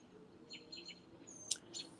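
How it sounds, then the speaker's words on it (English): Birds chirping outdoors in a rural setting, several short, thin tweets and calls scattered at moderate distance over a faint background hum, with no voices. "There's birds."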